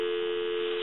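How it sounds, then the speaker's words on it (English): A steady, unbroken dial tone hums from the handset of an original Snoopy Woodstock telephone, clear and even for just under a second. "give you some dial tone"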